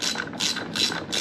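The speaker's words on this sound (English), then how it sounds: "Just use regular socket here," A socket wrench ratchets bolts on an LS1 engine while an ATI Super Damper is fitted, giving four quick bursts of close metallic clicking at an even pace.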